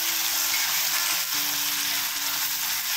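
Finely chopped tomato and softened onion sizzle steadily in a hot pan, a dense, close, continuous frying hiss with faint low clatter beneath and no talk.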